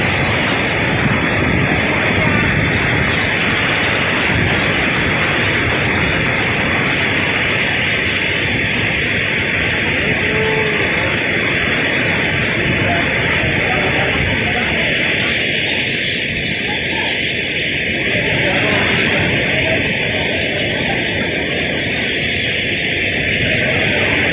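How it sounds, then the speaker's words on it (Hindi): A waterfall near the Siyadai temple rushes continuously, a dense, steady roar of falling water that stays loud and unbroken with no voices. "देखा वाटरफॉल ये देखिए"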